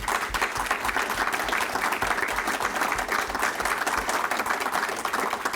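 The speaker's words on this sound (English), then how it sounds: "Katie has to get an applause because she did a terrific job" A room full of people at a press conference applauds, steady dense clapping that holds at even strength for several seconds without voices.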